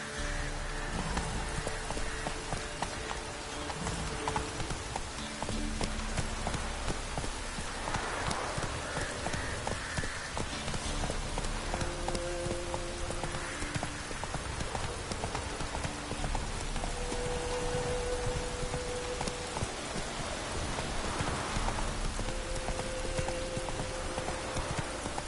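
Roach the horse trotting through rain in The Witcher 3: a steady clip-clop of hooves over a constant hiss of rainfall, with game music tones weaving underneath throughout.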